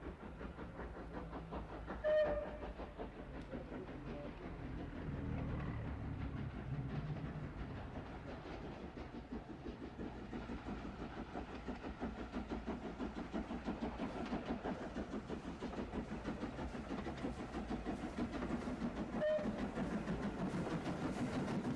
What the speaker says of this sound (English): the 440 slowed at Boyle for the token before blasting through the station